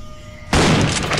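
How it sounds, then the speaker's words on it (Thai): A single sharp, loud blast bursts out after a quiet moment and rings on briefly, like a gunshot sound effect. "มีเสียงปืนอีกกระบอกแผดสนั่นขึ้นเสียก่อน"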